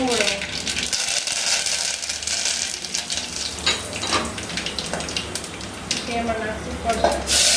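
Curry leaves drop into hot oil for Kathiyawadi kadhi, and a bright, crackling sizzle runs steadily up close, with a few faint clinks of utensils.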